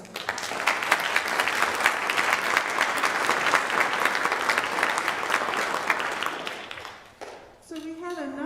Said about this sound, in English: can we get a round of applause for all of those students?